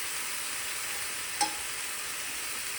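Bacon frying in a pan as it is turned over gives a steady close sizzle and crackle with one brief scrape or clink partway through, with no voices.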